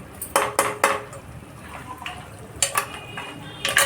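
Small cut mutton bones are stirred in a metal pot for bone soup, giving a string of sharp clanks and scrapes of the spoon against the pot in uneven bursts, close and fairly loud, with no talking.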